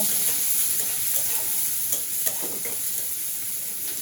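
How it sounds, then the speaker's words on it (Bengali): Chopped onion and garlic frying in a pan with dried red chilli, giving a continuous close crackling sizzle with occasional stirring scrapes and no voices. "ডুমো পেঁয়াজ কুচি রসুন কুচি তারপরে এখন এটাকে সুন্দর করে ভাইজে নেব"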